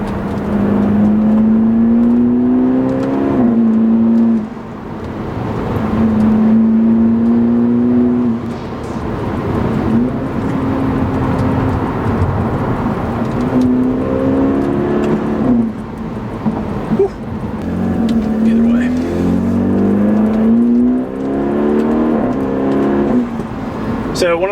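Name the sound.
four-cylinder car engine revving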